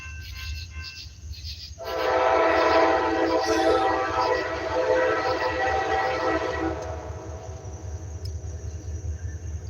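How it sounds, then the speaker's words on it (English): A train rumbles past close by, its loud broadband roar swelling in after a low idle hum and holding steady for several seconds before easing off, with a faint tonal whine above it. "you guys are just going to have to listen to the train."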